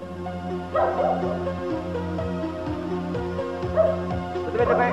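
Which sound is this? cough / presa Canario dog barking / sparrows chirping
presa Canario dog barking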